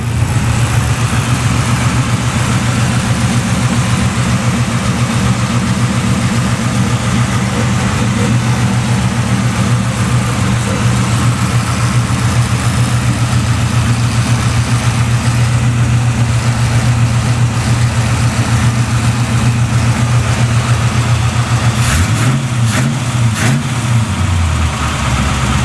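A Novick SS car engine idles steadily and loudly up close for the whole stretch, a constant low drone, with a brief blip of revs near the end.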